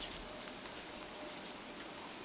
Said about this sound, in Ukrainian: О, дощ іде.